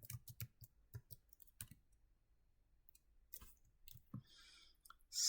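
Bursts of keystrokes on a computer keyboard while code is entered for a map view, with quick clustered clicks separated by short pauses, close and fairly quiet with no talking.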